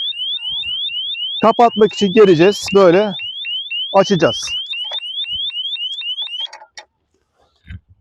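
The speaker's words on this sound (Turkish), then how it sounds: "Alarm ötüyor." An Abus 8077 motorcycle disc lock alarm sounds a loud, rapid series of repeated high electronic chirps, beeping steadily for several seconds while a person speaks over it, then stops abruptly.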